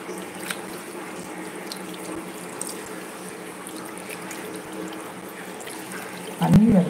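A tap runs with a soft, continuous trickle and splash into a basin, a faint voice murmurs underneath, and a louder clunk lands near the end.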